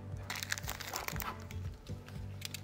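Plastic wrapping peeled off a Marvel figure toy, a close, continuous crinkling and crackling with small sharp crunches, fairly loud, without talk.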